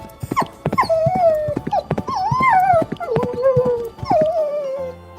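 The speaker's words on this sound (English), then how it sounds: "Dog." A dog in a 3D animal video game whimpers and yips in a series of whining, howling cries over a backing tune, close and fairly loud.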